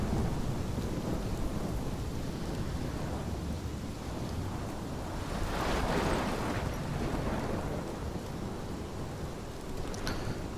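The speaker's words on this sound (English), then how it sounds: "That is a big fucking storm." Heavy rain pours steadily in a Life Is Strange storm, with a broad swell of rumbling thunder near the middle and a sharper crack close to the end, no voices.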